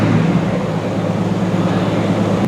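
An Aston Martin Vanquish's V12 engine runs with a steady, smooth low hum and broadband roar, heard close and alone without talk.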